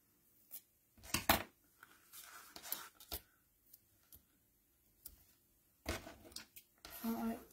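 Scissors snip paper during stamp crafting: a few quiet, scattered cuts and rustles close by, separated by near-silence, with low talking mixed in.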